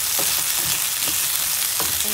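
Chicken feet sautéing in a pan for adobo give a steady, close sizzle with a few brief stirring scrapes and no voices.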